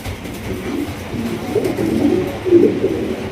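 A pair of Sirazi pigeons coo in low, repeated, throaty bursts close by, growing louder toward the end against a faint background hum.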